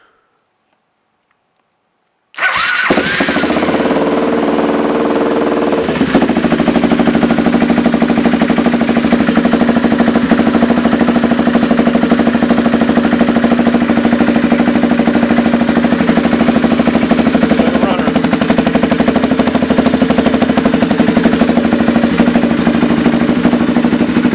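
A Can-Am DS650 ATV engine, revived after sitting, fires up after a silent start and runs on loudly and steadily with a rough, knocking idle for the rest of the clip.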